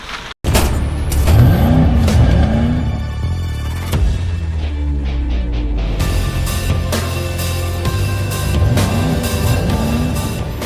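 A 2003 Porsche 911 Turbo with Tiptronic transmission runs close by, a steady loud engine drone with a brief sharp break near the start and a slight rise in pitch partway through.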